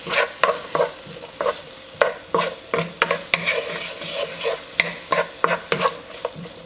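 Onions stirred with rice wine in a hot frying pan: a quick series of sharp scraping, clacking stir strokes in an irregular rhythm over a soft sizzle, close and fairly loud.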